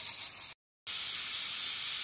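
A pressure cooker full of cooked beans vents steam as a steady, close, loud hiss, broken by one brief gap of silence before the hissing resumes.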